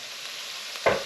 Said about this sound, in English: So we're going to fry this and just soften it up basically.